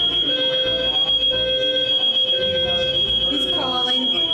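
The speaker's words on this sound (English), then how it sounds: "One burger got a little too cooked. Okay, very cooked, which set off the smoke detector." A smoke detector, set off by an overcooked burger, shrieks with a loud, piercing steady tone close by, with voices and clatter underneath.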